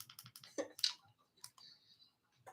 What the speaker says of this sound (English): I love a clicky keyboard